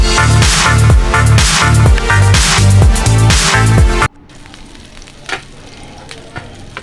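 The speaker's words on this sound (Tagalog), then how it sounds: "Ipiprito muna natin itong karni" Meat sizzles in a frying pan for Visayan-style humba, a steady hiss that surfaces faintly after several seconds of loud rhythmic music, with a couple of brief pops near the end.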